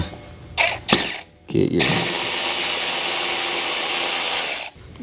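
A 5/8 socket on a power tool removes a spark plug from a Kubota RTV 520, giving a loud, steady whirring run of about three seconds after a few short bursts, with brief talk at the start.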